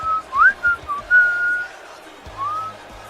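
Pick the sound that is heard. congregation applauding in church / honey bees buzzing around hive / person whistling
person whistling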